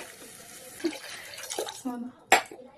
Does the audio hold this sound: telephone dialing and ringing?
no